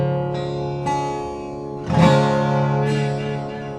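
Acoustic guitar in an alternate tuning, a few strummed chords ringing out one after another, clear and close with long sustain and no voices.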